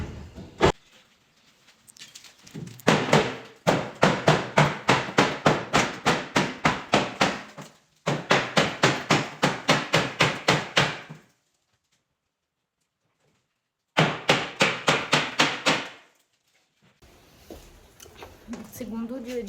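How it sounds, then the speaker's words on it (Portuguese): Wood boards being knocked loose from a house frame during renovation, sharp hammer blows in fast rhythmic bursts with pauses between, close and loud. "Mas tem que despregar essa madeira aqui, ó. E aí ele tá tentando tirar."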